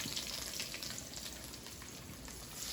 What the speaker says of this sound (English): the oil is nice and hot. Make sure it sizzles like that.